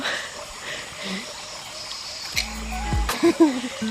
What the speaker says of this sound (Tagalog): Bukal, may bukal.